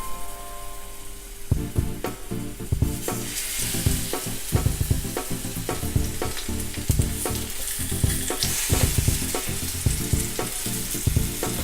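Banana sweet rolls fry in hot oil in a pan, a dense continuous sizzle broken by repeated sharp scrapes and clicks as the rolls are turned, with no voices.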